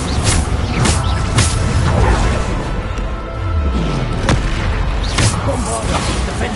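Bombarda explosion spells in Hogwarts Legacy boom and crash repeatedly through loud, dense combat noise, with whooshes and impacts and a voice over the action.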